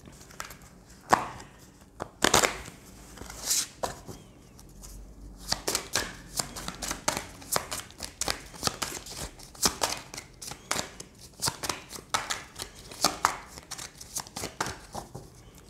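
Tarot cards are shuffled and handled close by in quick, irregular bursts of papery riffling and slapping, with short pauses between passes.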